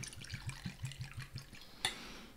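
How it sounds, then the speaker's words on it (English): Liquor pours from a square bottle in a quick gurgling stream of evenly spaced glugs, close and quiet, ending with a small clink. "It pours really nicely, though."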